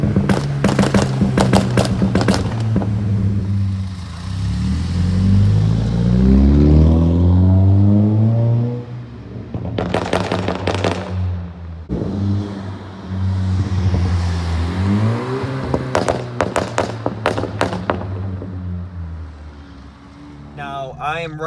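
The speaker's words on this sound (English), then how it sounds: "I'm gonna give you guys some sound clips of the exhaust." An Audi B8 A4 with a straight-pipe exhaust, tune and upgraded intercooler bangs and crackles on its 2-step launch control, with loud rapid pops and rising revs in two long bursts, close and harsh.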